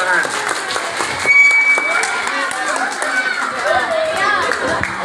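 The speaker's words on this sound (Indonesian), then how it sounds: "Tepuk tangan." Applause from an audience at a Maulid Nabi religious gathering, with children present, sustained clapping mixed with lively chatter and children's voices throughout.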